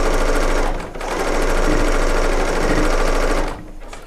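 A serger sewing machine piecing quilt fabric runs in a loud, steady, rapid mechanical whir, pausing briefly once before resuming and then slowing toward the end, close and without talk.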